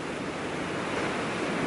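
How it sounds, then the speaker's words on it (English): Ocean waves crash on a beach in a steady, loud wash of surf noise that fills the whole stretch, with some wind rumble and no talk. "Yeah, waves crashing."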